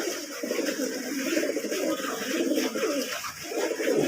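Pigeons on a residential rooftop, including breeding pairs and old Giribaz birds, give soft repeated coos that overlap into a steady murmur close by.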